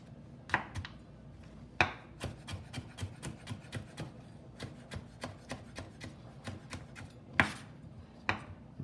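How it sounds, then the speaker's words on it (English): A knife roughly chops raw carrot on a board, producing a rapid, irregular run of crisp, close knocks with a few louder thuds mixed in. No one speaks. "I've got a little bit of raw carrot here. And I'm gonna roughly chop this."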